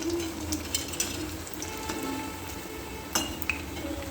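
Sabudana vadas fry in hot oil with a continuous bubbling sizzle, and a utensil stirs them with a few light clinks against the pan.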